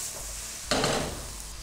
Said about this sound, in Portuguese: Salteamos aqui.